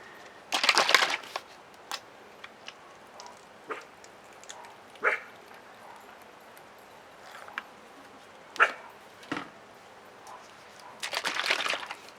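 A dog barks in a yard in short, separated bursts spread across the stretch, some close and loud, others fainter, with quiet gaps between and a low background hum.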